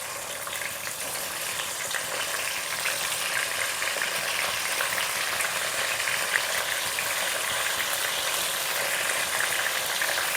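Stuffed eggplants (gutti vankaya) with a few cumin seeds frying in oil in a pan, giving a steady, dense sizzle that holds evenly throughout, close and fairly loud with no talking.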